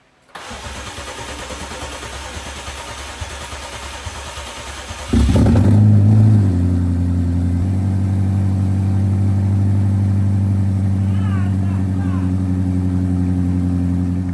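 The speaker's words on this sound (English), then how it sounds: "that was the very first time that this engine started after a full rebuild" A rebuilt BMW M5 Competition engine, starting for the first time after a full rebuild, cranks for several seconds, then catches and roars to life with a loud rev before settling into a steady, rumbling idle.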